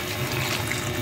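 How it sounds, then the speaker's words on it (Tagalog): Water is poured into a cooking pot during home cooking, a steady, even rush of liquid that holds at a constant level for the whole moment, close by and alone with no talk over it. "Lagyan natin ng konting tubig yan."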